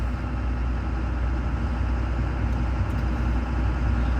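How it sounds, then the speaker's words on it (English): A freshly rebuilt engine, the 290, idles at the ranch with a steady, even low rumble that holds close and loud throughout, no revving and no voices. "Engine sounds nice."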